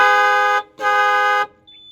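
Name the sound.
Ashok Leyland truck horn honking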